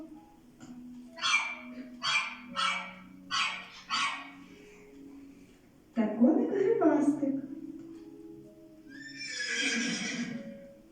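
A small dog gives five quick, evenly spaced barks, then a horse whinnies loudly nearby and neighs again more softly.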